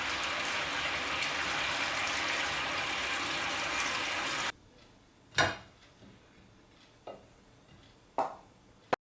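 Hot water gushes steadily out of a pot of boiled broccoli as it is drained for about four seconds, followed by a few sharp, quiet clinks of cookware.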